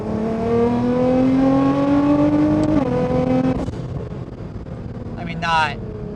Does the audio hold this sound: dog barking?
no